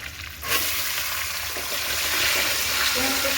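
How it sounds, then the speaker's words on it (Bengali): Chopped onion with black cumin hits hot oil in a pan, breaking into a steady loud sizzle that begins abruptly and continues close up without talk. "পেঁয়াজটা একটু ভাজা ভাজা করে নেব"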